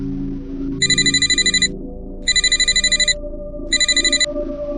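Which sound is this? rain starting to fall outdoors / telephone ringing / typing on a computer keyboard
telephone ringing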